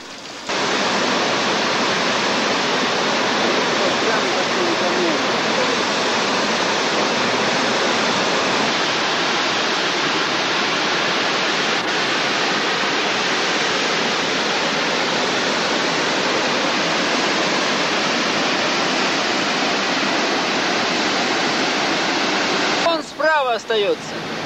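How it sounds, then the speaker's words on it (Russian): Three waterfalls pour together into a granite well, giving a loud, unbroken roar of rushing water that stays steady throughout, with a brief disturbance near the end. "Гранитный колодец, в который низвергаются сразу три водопада."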